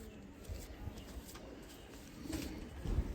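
A pigeon coos faintly in a loft among other birds, soft low murmuring calls repeating amid background rustle and distant noise.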